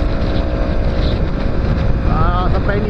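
A motorcycle ridden to work on the road sounds as a steady low engine drone buried under loud, constant wind buffeting on the microphone.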